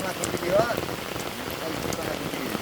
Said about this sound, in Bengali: বৃষ্টি তো বিশাল বৃষ্টি হয়ে গেছে